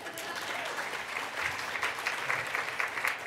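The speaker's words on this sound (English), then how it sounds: "let's give a big round of applause for Mira" Steady applause from an audience at an awards event honoring Mira Marti, a continuous wash of clapping heard somewhat far off for a few seconds.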